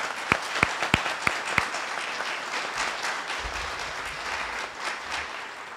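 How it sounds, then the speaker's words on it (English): An audience applauds at a military change of command ceremony. A few sharp, distinct claps at the start swell into a sustained, moderately loud round of applause that carries on to the end. "Please join me in a round of applause for a great Navy family led by my wife here."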